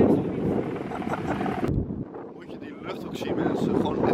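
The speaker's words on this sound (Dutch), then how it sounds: "het waait op een of andere manier heel goed nou" Wind gusting outdoors in summer, buffeting the microphone with a broad rumbling roar that briefly drops before swelling again, while people talk over it.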